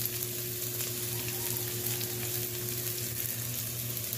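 Ginger, onion and garlic sizzle steadily in a frying pan for balbacua, a continuous close, loud crackle with faint stirring throughout and no talking.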